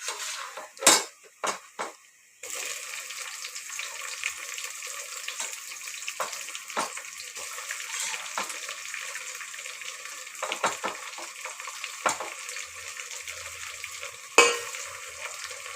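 Onions and tomatoes sautéing in a pan for dum biryani, a close, even sizzle broken by clattering spoon scrapes and knocks against the pot, no talking.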